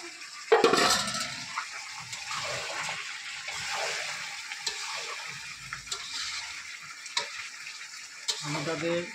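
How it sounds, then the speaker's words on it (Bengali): Previously fried potatoes and meat are frying and being stirred in oil in a pan. There is a loud scrape and clatter at first, then a continuous close sizzle with occasional stirring clinks and no talking. "ভেজে রাখা আলুটাকেও এর সঙ্গে দিয়ে কষিয়ে নেবো।"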